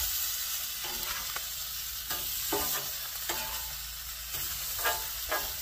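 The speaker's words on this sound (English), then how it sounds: "Go ahead and let the steak go a little bit longer." Steak sizzles steadily in a hot pan for a carnivore meal, with a constant frying hiss broken by several stirring or scraping touches, moderately quiet and without speech.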